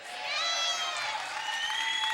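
A crowd of spectators from Mexico cheers and applauds at a girls' singles match of the 2004 IRF World Racquetball Championships, in a steady loud burst of clapping and shouting that lasts the whole moment.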